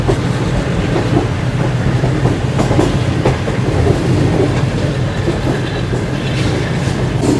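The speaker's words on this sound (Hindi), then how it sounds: "ट्रेन इस वक्त FFC सादगाबाद के पास से गुजर रही है" Shalimar Express passenger train running on rails near FFC Sadiqabad in Punjab, heard as a steady, loud low rumble with rhythmic clickety-clack of wheels over rail joints throughout, no talking.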